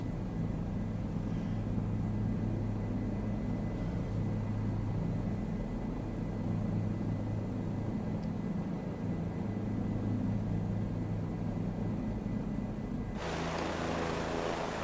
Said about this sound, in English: My biggest complaint about this whole helicopter is the internal noise with the rudder pedals and stuff.